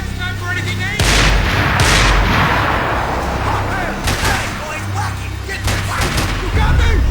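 Sustained heavy gunfire and booming blasts in Max Payne 3, loud and close, with dense rattling bursts running the whole time and someone shouting over it.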